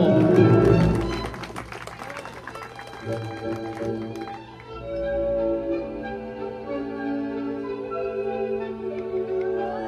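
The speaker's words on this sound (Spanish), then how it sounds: "un fuerte aplauso" Guests applaud right after a civil wedding ceremony, a burst of clapping in the first few seconds that thins out as music with sustained tones carries on underneath.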